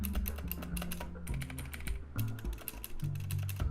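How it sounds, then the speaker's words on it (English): Steady, rapid clicky typing on a budget mechanical keyboard with blue tactile switches, each keystroke a crisp, loud click in a continuous stream, with no voices. "they are blue switches, they do have a tactile bump, and the audible click, as you can hear, it's a pretty significant amount of noise"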